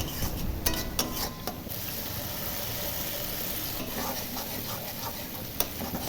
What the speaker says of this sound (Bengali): এবার কষে নিয়ে টমেটো সফট হলে দেব কাজু পেস্ট।